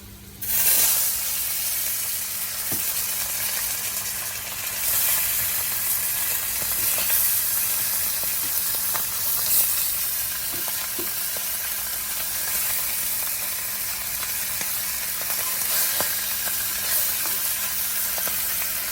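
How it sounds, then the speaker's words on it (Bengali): Potatoes and fish frying in oil in a pan, a loud close continuous sizzle and hiss with occasional stirring scrapes, steady for the whole stretch. "এই যে এই সাইডে আলুগুলো কষিয়ে নিচ্ছি বাকি মাছগুলো দিয়ে দিই"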